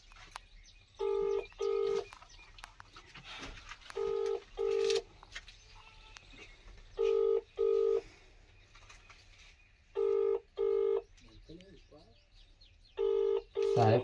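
A telephone keypad sends pairs of sharp DTMF tones, about ten beeps in five evenly spaced pairs, each pair a few seconds apart, fairly close, with faint background voices and chirps between them.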